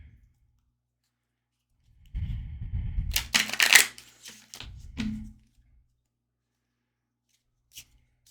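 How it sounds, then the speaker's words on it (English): Small tarot-style cards are shuffled by hand in a quiet room, a few quick riffling and tapping bursts in the middle followed by one soft click, with silence before and after. "Let's divide this into sections and do a little shuffling."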